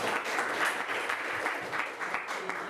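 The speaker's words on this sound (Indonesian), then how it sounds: "Kita berikan aplaus." Clapping from a classroom of students for a classmate during a history lesson, a steady dense patter of many hands that holds at an even level throughout.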